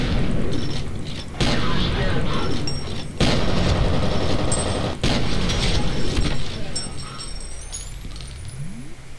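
Gunfire in the video game F.E.A.R. comes as bursts of loud booming shots in three or four blasts separated by brief gaps, with game effects and some talk mixed in.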